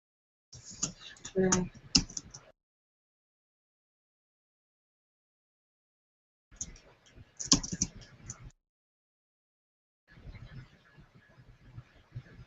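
Typing on a computer keyboard comes in three short bursts of quick, close clicking keystrokes, separated by stretches of near silence.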